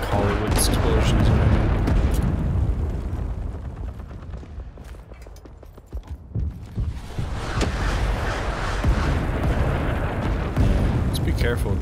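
Artillery barrage in the video game Rising Storm 2 on a Saigon map: deep, rumbling blasts that swell and roll, with scattered gunfire cracks in a loud, dense battle soundscape, and a voice talking over it.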